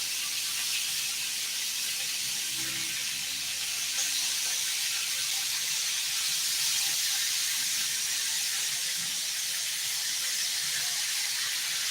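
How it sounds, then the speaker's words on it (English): Steady crackling sizzle of bacon frying in a pan, a dense hiss that stays constant throughout with no talking. "Hear that? Bacon frying."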